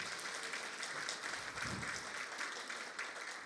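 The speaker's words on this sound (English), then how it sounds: "Give him a round of applause as well." A conference audience at an Indigenous clean energy forum gives a quiet, distant round of applause, a soft and steady patter of many hands that swells slightly and holds without any speech.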